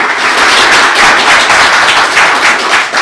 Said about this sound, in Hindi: जोरदार ताली एक बार जो हमने ली है